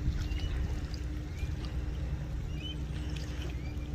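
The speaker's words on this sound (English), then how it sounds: "The water sounds so pretty and peaceful." Water flowing and lapping along a Florida park trail near Gulf inlets, a steady low wash with faint trickles running the whole time, fairly close and without voices.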